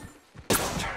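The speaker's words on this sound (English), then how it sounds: "Getting shot at." Gunfire in the Apex Legends video game: a faint, quiet lead-in, then a sudden loud burst of shots that keeps going in a dense volley.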